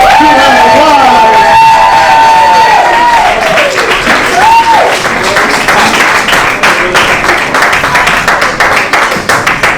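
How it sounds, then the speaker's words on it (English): Comedy-night audience welcomes an improv team with loud, sustained applause, whoops and shouts, cheering voices rising early before the clapping carries on thick and steady. "Come on, let's give them an applause."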